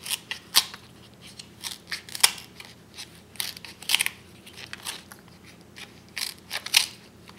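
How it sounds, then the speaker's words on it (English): Artichoke leaves being snipped with scissors, a run of sharp, close, crisp cuts at an irregular pace, each one a quick crunchy click, with no talking. "So I'll continue cutting this till I get to the top. So I'll cut this off."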